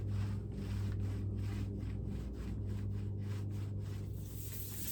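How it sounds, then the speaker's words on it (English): Hand scuff sanding of a laminate dresser top with 220 grit sandpaper gives a steady, close rhythmic rubbing, stroke after stroke, over a low constant hum. "Since the top has a laminate surface, I'm scuff sanding it with 220 grit sandpaper"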